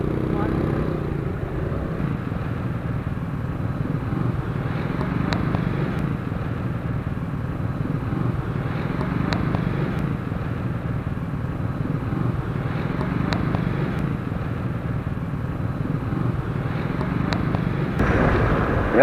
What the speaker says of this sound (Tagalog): Mahina naman tong motor ko